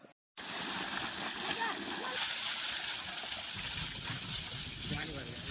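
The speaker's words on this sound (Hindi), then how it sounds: "पानी भर रहे हैं दोस्तों" Water gushes and splashes steadily into a farm sprayer tank being filled for spraying a mustard field, a loud continuous rushing that starts abruptly and runs throughout.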